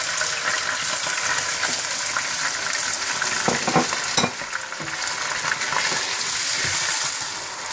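Loud, steady sizzling of chicken and yogurt frying in a pot for degi chicken biryani, with occasional clinks and stirring scrapes partway through.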